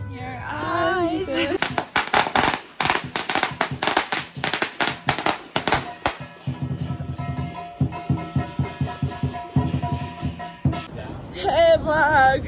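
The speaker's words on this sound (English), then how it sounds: "Yeah, the fireworks." Firecrackers and fireworks go off nearby in rapid bursts of sharp cracks and pops, dense clusters followed by a lighter rattling volley, with voices heard at the start and end.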